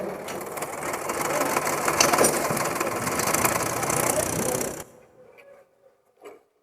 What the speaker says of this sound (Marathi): हे ट्रॅक्टर दोन ट्रॉलीने भरलेलं त्या ठिकाणी आलेलं आहे